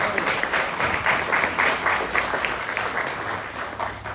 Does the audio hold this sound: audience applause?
yes